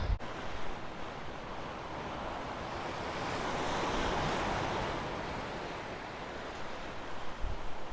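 Waves breaking on a beach near Barcelona, a continuous broad surf wash swelling and easing, with wind buffeting the microphone and no voices.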